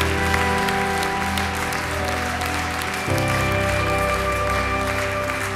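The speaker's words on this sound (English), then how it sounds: "we give God like the biggest applause ever right now" A church congregation at Sunday worship gives God a long, loud round of applause, dense clapping that fills the sanctuary and holds steady from start to finish.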